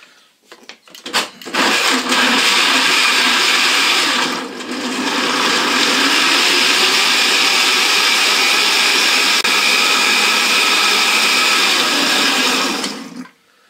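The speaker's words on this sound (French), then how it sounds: "j'ai récupéré une partie de la marinade avec les légumes, et je vais les mixer" A kitchen blender purees marinade with vegetables for a game stew, producing a loud, steady whirring roar that dips briefly partway through and then runs on until the motor stops.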